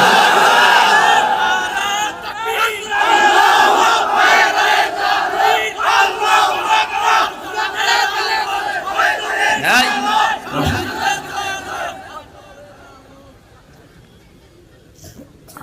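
Large gathering at an Islamic sermon shouting takbir in unison in answer to a preacher, loud massed chanting in repeated waves that fade toward the end.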